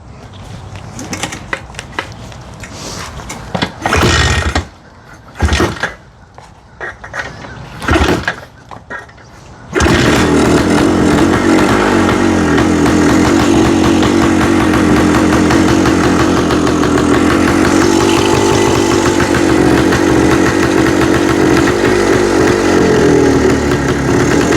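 A 1972 Yamaha DT 250 (DT2) two-stroke motorcycle is kicked over with a few sharp thumps and clatters, then fires and settles into a loud, steady, buzzing idle close by.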